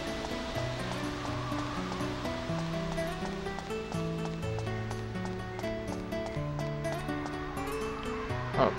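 Waterfall scene in the video game Dark Cloud 2, a constant rushing water hiss beneath calm, melodic game music with sustained tones, steady throughout.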